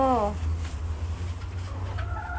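Chickens let out a couple of short clucks, one at the start and another near the end, over a steady low hum.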